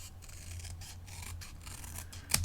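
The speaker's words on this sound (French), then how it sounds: "je vais prendre mes ciseaux. Je vais venir découper sur le trait extérieur ici." Scissors snip through paper while a gift box is cut out along an outer line, a steady close rasping run of cuts ending in one sharper snip, with no talking.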